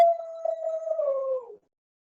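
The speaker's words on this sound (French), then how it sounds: "c'était ma chienne, pardon" A pet dog howls close by in a single sustained, slightly wavering cry lasting about a second and a half, dropping in pitch before stopping abruptly, with no talk over it.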